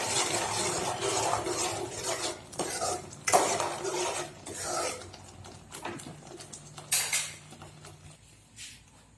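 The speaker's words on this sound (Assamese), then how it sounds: "এতিয়া মই ইয়াত অকণমান কচুৰি মেথি দি অকণমান লৰাই নমাই থওঁ" Curry with fenugreek leaves stirred in a pot in an Assamese home kitchen, with intermittent scraping and clattering of a spoon against metal, close and moderately loud, and a brief cough partway through.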